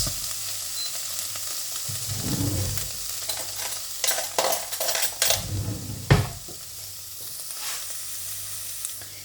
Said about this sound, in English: I'm going to continue to fry it off, so just incorporate that into the mixture till it's all mixed in.